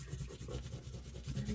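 Tape being rubbed down onto a postcard, a close, steady scuffing friction with repeated strokes through the short span and no talking.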